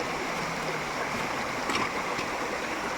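Waterfall midway up Buyabod mountain, a steady broadband rush of falling water filling the scene continuously, close and even in level, with no voices.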